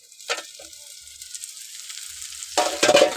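Potatoes and cauliflower in a pan, with a quiet start, a few soft clinks and a short burst of sizzle, then a louder hissing fry rising near the end.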